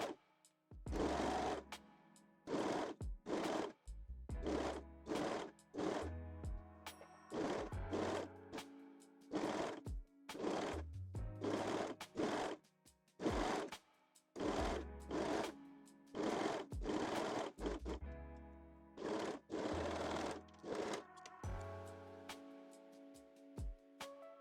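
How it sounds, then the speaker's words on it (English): A sewing machine stitches elastic onto a wire-free full-bust bralette with a slightly longer stitch, running in repeated bursts of a few seconds each with brief pauses between them, close and steady throughout. "I will sew the second side exactly the same way as the first one"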